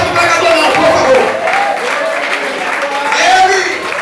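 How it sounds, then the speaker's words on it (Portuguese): A church congregation applauds during a doctrine service, with a dense clapping texture at close range mixed with voices and a speaking preacher throughout. "Quer aplaudir? Aplauda, mas aplauda ele, não aplauda o pregador"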